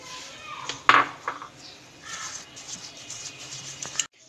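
A mixture of flour, butter and sugar for cookies is stirred in a bowl, giving scraping and clinking knocks of a utensil against the bowl, with one sharp clank early, close up and intermittent.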